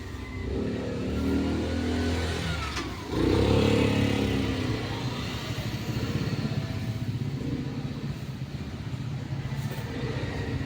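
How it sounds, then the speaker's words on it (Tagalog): A Lotus impact drill with a fault that makes it smoke from underneath runs continuously with a loud, steady motor whine and hum, surging briefly around three seconds before settling into a constant drone. "Ingay ng motor"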